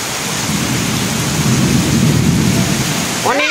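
Heavy rain pours steadily during a thunderstorm in Bangladesh, with a loud, constant wash of falling water and a deep rumble of thunder underneath, close and continuous.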